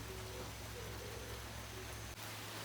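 Heavy rain falls steadily outdoors in a garden, a dense even hiss that stays loud and unbroken from start to finish, with no voices.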